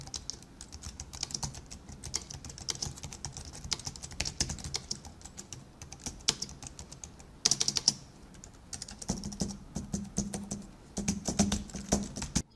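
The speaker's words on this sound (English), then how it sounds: "Let's do a quick typing test." Typing on a Logitech K580 keyboard, a steady run of quiet, close keystroke clicks with a brief louder burst partway through and denser clatter toward the end, with no voices.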